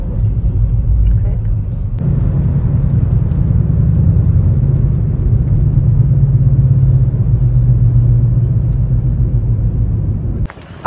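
A car driving on the road heard from inside, a steady low engine and tyre rumble that holds loud and even throughout, with a sharp knock near the end.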